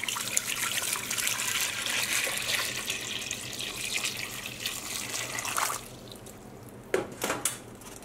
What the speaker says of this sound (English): And we're just going to cover this with some cold water.